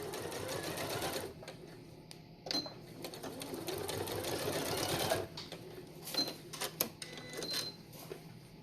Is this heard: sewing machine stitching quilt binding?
yes